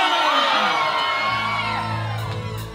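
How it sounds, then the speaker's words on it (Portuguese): A crowd at a Folia de Reis folk festival in Bom Jesus, Goiás, whoops and shouts together in a loud, sustained roar that swells and then eases, with no clear talk. "Eu quero ouvir o grito da ciganada apaixonada."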